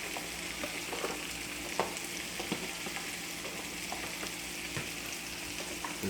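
Vegetables and steak sizzle and fry steadily in a pan, a continuous crackling hiss with occasional sharper pops and faint stirring clicks, fairly close, no talking.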